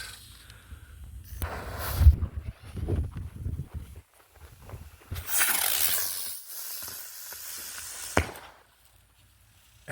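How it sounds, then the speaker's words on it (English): A Peacemaker firework from Blastwave Fireworks gives a loud rushing hiss lasting a few seconds, then a sharp report, with scattered knocks and rustles from the setup before it. "Peacemaker by Blastwave Fireworks."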